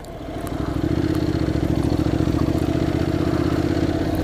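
A delivery motorcycle's engine rising from quiet to a steady, even putter with a rapid pulsing beat, close and fairly loud, running alone without speech.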